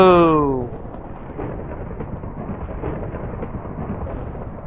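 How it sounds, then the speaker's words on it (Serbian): Thunder rolls in the video game Minecraft, a low rumbling crash that fades into a steady dull drone of rain and ambience, loud at first and then settling. "Bome, grmi."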